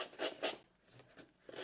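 A paper edge is distressed for a scrapbook layout, giving soft, quiet scraping rasps in a few quick strokes, close up and with no talk.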